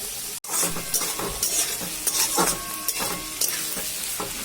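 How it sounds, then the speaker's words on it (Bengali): Onions sizzle in hot oil in a pan for chow mein while a spatula stirs and scrapes in irregular strokes, close and loud with no voices. "পেঁয়াজটা দিয়ে একটু নেড়ে পেঁয়াজটা একটু ভাজা হোক"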